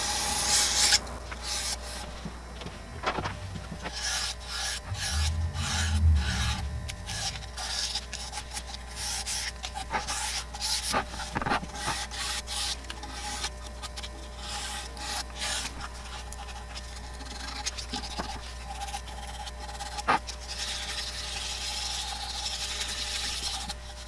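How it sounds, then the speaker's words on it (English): Soft, steady rubbing of 1000-grit sandpaper on a wooden keyholder's finish continues at close range, a quiet rasping texture with a few brief knocks and handling noises. "I like to run a light sanding of 1000 grit sandpaper just to smooth out any bubbles"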